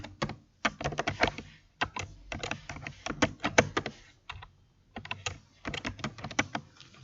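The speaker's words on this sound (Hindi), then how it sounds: "मैं यहाँ पे स्टूडेंट्स के नेम्स भी एंटर कर रही हूँ।" Typing on a computer keyboard while entering student names into a table in MS Word 365: quick, close key clatter in irregular bursts with short pauses, no talking.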